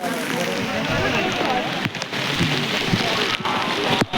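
Steady rain pours at Takmak Tok on Raigad fort, a broad continuous hiss of drops striking rock and ground with a few brief dips, close and loud, while a voice seems to murmur faintly beneath the downpour.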